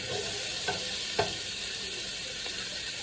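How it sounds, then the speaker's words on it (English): Onions and green peppers sizzle in a skillet, an even hiss with occasional light knocks of a spoon or spatula against the pan, close and continuous. "skillet that your onions and green peppers is cooking in"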